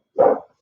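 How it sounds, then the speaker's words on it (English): A single short, loud bark from a big dog, close and alone. "So if you hear barking in the background, it's my big dog, Cooper,"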